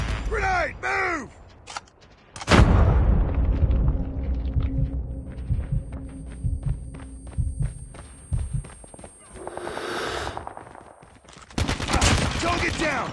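A Call of Duty Mobile team deathmatch on the Suldal Harbor map: a sharp loud blast, then a long stretch of rapid gunshots and bursts at varying distances, fading and returning near the end, with scattered game voice lines.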